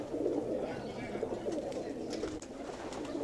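Pigeons coo in a steady, low, murmuring chorus close by, with a faint voice underneath.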